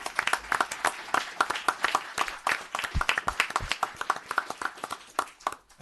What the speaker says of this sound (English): A nice round of applause for Police Officer Michael Margie.